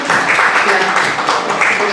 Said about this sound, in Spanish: Un aplauso para la doctora Lilia Llanto